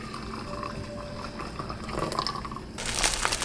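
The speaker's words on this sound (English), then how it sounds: "I'm going to snip this corner here and pour our soup into our warm bowl." Ramen soup pours from a snipped pouch into a warm bowl in a close, steady liquid stream that turns into a brighter splashing fill toward the end.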